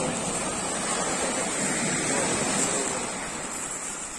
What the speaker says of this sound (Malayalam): തിരയുണ്ട്